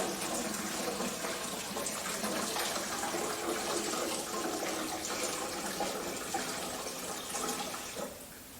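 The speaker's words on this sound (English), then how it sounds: "So I'm going to pour that off into the container." Brewed coffee concentrate is poured off into a container in a steady, continuous splashing stream that runs for several seconds before tapering off near the end, close by with no talking.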